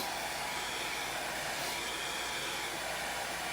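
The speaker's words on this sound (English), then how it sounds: "Let me just hit that with a blow dryer real quick" A handheld blow dryer runs continuously while drying a paint transfer on a wooden door tag, a steady close airy whoosh with no pauses and no speech.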